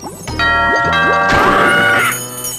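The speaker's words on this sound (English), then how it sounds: "That bell must summon the drawbridge guard." A bell rung to summon the drawbridge guard in the PlayStation game Blazing Dragons, loud ringing clangs with long metallic overtones struck a few times, then fading.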